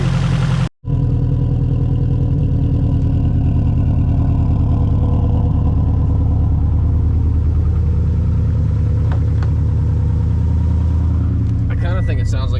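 A Subaru STi engine running steadily at idle, a continuous low rumble with a possible irregular miss in its rhythm, close and loud throughout after a brief cut near the start.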